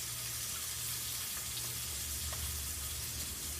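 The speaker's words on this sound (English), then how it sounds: "Now, I'm only cooking one steak for my husband and I." Steak frying in a pan gives a steady, close sizzle over the whole stretch, with a low hum beneath and a few faint clicks, and no one speaks.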